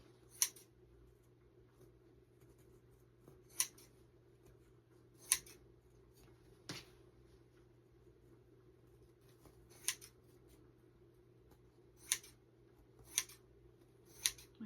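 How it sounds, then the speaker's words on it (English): Sharp scissors snip through fabric in crisp, isolated cuts, about nine spaced irregularly over a quiet room with a steady low hum underneath. "My scissors are really sharp"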